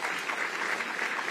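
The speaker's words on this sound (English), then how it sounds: "So please give yourselves another round of applause for that." Audience at a Michigan Chronicle Pancakes & Politics event breaking into a brief, dense round of applause, steady clapping from many hands heard alone.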